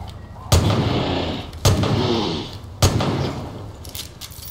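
In Far Cry 5, three loud, booming lever-action rifle shots fire about a second apart, each ringing out with a long, fading echo, followed by faint clicks.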